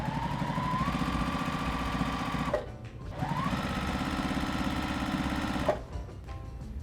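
Sewing machine stitching binding onto a quilt, running steadily and close for about two and a half seconds, pausing briefly, then running again before a second short stop.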